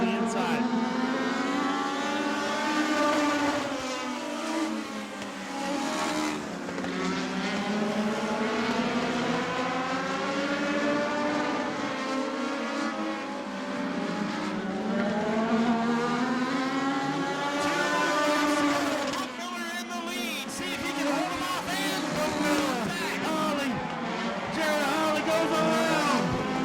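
Race cars running side by side in a close battle at Auburndale weekly racing, engine drone rising and falling continuously and loudly throughout, with a commentator talking over it the whole time.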